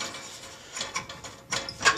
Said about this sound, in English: I have to crank the wick all the way up